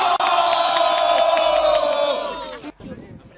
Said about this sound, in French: Il a ensuite fait un long discours devant une foule très attentive et à l'écoute.